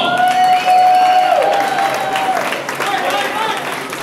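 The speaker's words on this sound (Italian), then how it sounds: "Un applauso!" A crowd at a swing dance competition finale applauds and cheers, a loud, dense roar of clapping with a whistle or shout cutting through and voices mixed in.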